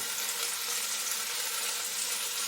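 Chicken sizzles steadily in a hot pan with finely chopped fresh ginger, a continuous bright hiss of frying with no voices.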